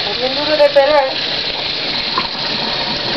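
Water gushing steadily from a tap while a fish is cleaned and cut, a continuous loud splashing hiss with a voice briefly talking over it.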